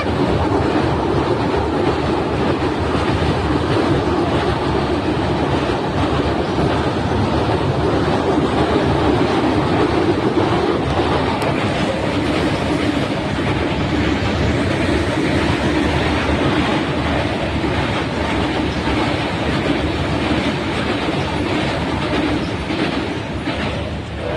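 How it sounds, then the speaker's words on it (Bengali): A long train crosses a bridge over the Torsha river, its loud continuous rumble and rhythmic clatter of wheels on rails rolling on without pause and no talk. "দেখতে পাচ্ছেন ট্রেন চলে এসেছে।"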